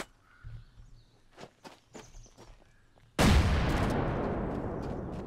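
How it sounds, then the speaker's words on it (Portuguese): A grenade in the video game Rust bursts loud and close, a sudden broad blast that rumbles and slowly fades, after scattered quieter taps and footsteps. "Essas explosões aqui isto são granadas."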